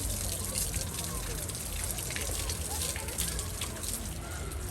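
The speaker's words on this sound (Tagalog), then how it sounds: "Mag-shower muna tayo." Shower water pours steadily in a constant hissing spray, close and even, with no pauses.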